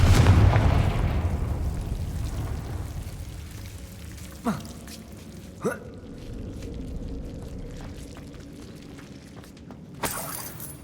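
A Confringo fire spell blasts in the Hogwarts Legacy video game, starting as a loud rumbling burst that fades slowly, then followed by a few sharp whooshing cracks and a final bright impact.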